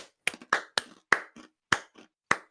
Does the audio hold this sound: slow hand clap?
yes